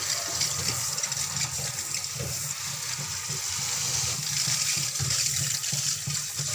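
Tap water runs steadily over potatoes being washed in a kitchen, a continuous hiss of running water with no talk.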